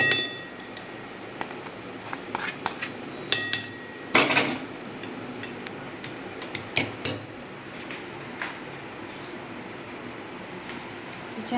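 A spoon stirring hot jaggery syrup into a dish, giving scattered metallic clinks and scrapes against the vessel, some sharp and close, others soft, at irregular intervals over a faint background.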